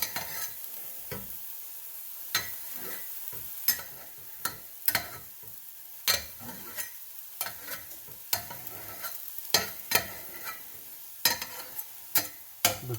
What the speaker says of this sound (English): Scrape all these onions down in there.